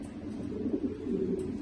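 French meat pigeons cooing close by, a soft low throaty coo repeated in two short swells over a quiet background.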